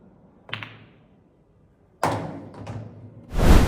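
A snooker shot played, with a crisp knock of cue on ball followed by further sharp clacks and thuds as balls collide, close and fairly loud against a quiet room.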